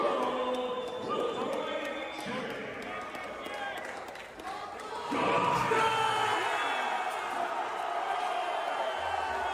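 Crowd reaction to a world title announcement at a bare knuckle fighting event, a roaring mass of cheering and shouting that swells loudly midway, with voices mixed in.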